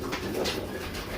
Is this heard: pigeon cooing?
yes